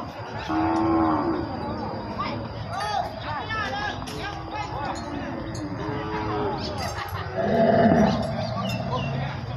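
Beef cattle low repeatedly at a livestock market, with loud, drawn-out moos from several animals overlapping one another. Someone talks throughout amid the market's background bustle.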